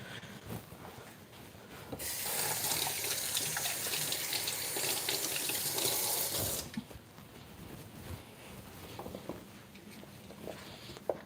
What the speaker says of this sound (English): actually let me rinse them first.